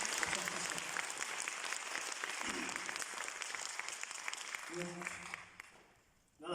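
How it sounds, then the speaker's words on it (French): An audience applauding at a formal gathering, dense steady clapping from a crowd that fades toward the end, with some voices mixed in. "Je vous demande de les applaudir très fort."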